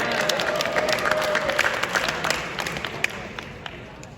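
A school talent show crowd applauds and cheers steadily, dense clapping filling the hall loudly from start to finish and slowly tapering off, with scattered shouts mixed in.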